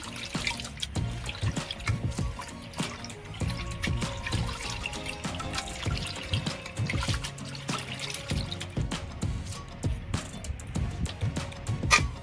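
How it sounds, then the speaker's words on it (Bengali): Flour dough being washed by hand in water over and over until the water runs clear, with steady trickling, splashing and dripping close by and no talking. "আবার আমি জল দেবো যতক্ষণ না সাদা জল হচ্ছে ততক্ষণ আমি জলে ধুইতে থাকবো"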